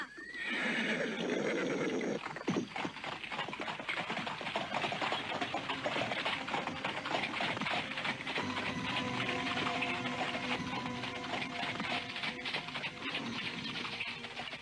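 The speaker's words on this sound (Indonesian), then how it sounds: "Dan kereta kuda itu bergerak dikendalikan Laraswati." Horses pulling a carriage whinny loudly near the start, followed by a continuous rumble of rolling wheels and hooves that carries on at an even, close level, with no talk.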